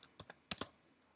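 Keys on a computer keyboard clack in a short uneven burst of about five close, crisp strokes, two quick ones and then a tight cluster, with no voice over them.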